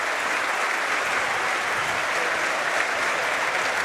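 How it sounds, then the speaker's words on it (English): Applause ringing around a football stadium during a Queens Park Rangers v Charlton match, a broad, distant wash of clapping from the crowd, steady and unbroken throughout. "Round of applause for ringing around the stadium"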